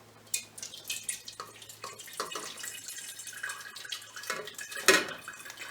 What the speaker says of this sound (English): I'm now going to drain the juice off the fruit. So carefully strain the fruit